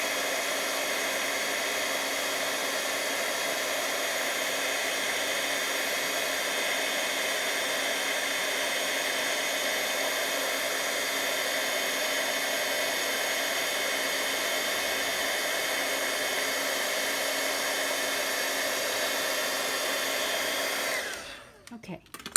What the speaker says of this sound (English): so while I emboss, while I use the heat tool